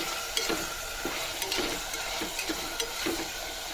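Chicken tossed with chili powder in a hot pan: steady frying sizzle with soft rhythmic scraping strokes of a spoon stirring through the pieces every half second, close and without talk.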